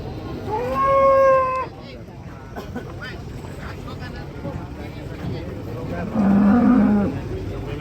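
Cattle being unloaded from a truck let out two long, loud moos, the first higher and drawn out, the second deeper a few seconds later, with crowd noise and chatter in between.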